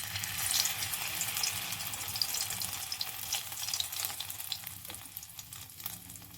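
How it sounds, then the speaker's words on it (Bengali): Asafoetida frying in hot oil in a kadai, a steady crackling sizzle with faint splashy, watery stirring sounds throughout, close and fairly loud with no talking. "কড়াইয়ে দিয়ে দিলাম তেল। এবার আমি দিয়ে দেব হিং"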